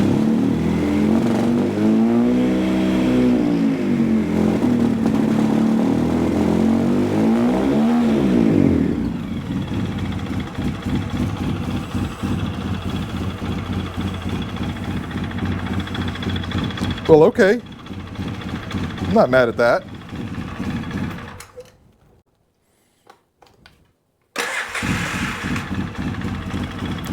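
Polaris Sportsman 700 ATV engine after a starter rebuild, running with a fluctuating rev that settles into a steady idle, cuts off briefly, then restarts; someone talks in between.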